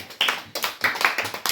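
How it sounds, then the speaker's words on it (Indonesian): A classroom group claps for the second team in brisk, uneven bursts, a small cluster of hands close by for a short moment. "Tepuk tangan untuk kelompok 2 dulu."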